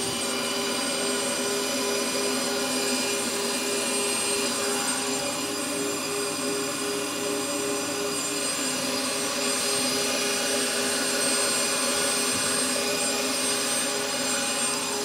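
A shop dust extraction system runs at steady full power, a constant loud whooshing drone with a whining tonal hum, alone with no voices throughout.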